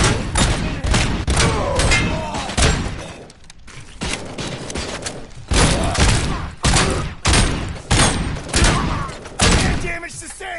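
Repeated bursts of turret gunfire in RoboCop: Rogue City ring out loud and close, coming in several rapid volleys with short pauses between them.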